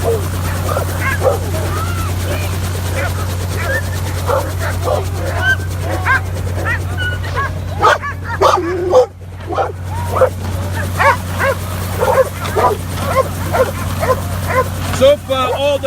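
Heavy working-trial dogs bark, yip and whimper repeatedly near a helicopter, with loud close barking in irregular bursts over a steady low engine drone, and someone talking at times.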